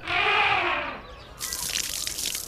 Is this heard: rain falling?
no